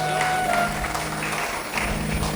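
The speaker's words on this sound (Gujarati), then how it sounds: "જોરદાર તાળીઓથી વધાવશું." Applause from a gathered audience at a Bhagavat Katha religious discourse, a fairly steady wash of clapping at moderate distance with a faint tonal hum beneath.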